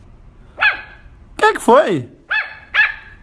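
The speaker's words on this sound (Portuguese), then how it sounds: "O que você tá latindo pra lá?" A pet dog barks indoors in a few sharp, close barks, with a short doubled burst in the middle, while a person speaks briefly between them.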